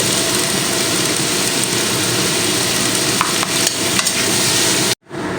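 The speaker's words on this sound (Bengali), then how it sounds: "এবারে তেলের মধ্যে দিয়ে দিলাম দিয়ে ভালো করে ফ্রাই করে নেব" Carrots and potatoes for chow mein fry in hot oil, a loud, continuous close sizzle with a few faint stirring clicks before it cuts off abruptly near the end.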